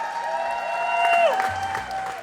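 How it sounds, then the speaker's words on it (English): An audience at a singing competition show clapping in a brief burst of applause, blended with sustained ringing tones, moderately loud and lasting about two seconds. "Give one more round of applause."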